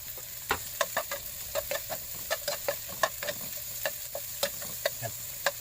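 Red and green chili peppers sauté in a hot pan while a utensil stirs them, giving a regular rhythm of quick scraping knocks over a constant low sizzle.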